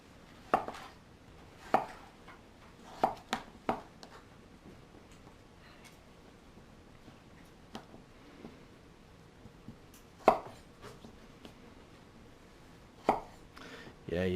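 Vegetables chopped with a knife on a board for ribollita, a handful of sharp, irregular thuds spaced with pauses between them, close and fairly quiet.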